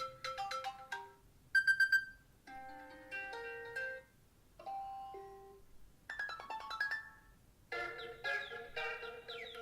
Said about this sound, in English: Yes, you do get all of the new ringtones here as well.